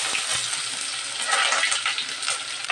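Onions fry in hot oil for a kurma, making a loud, continuous crackling hiss with light stirring, close up and without talk.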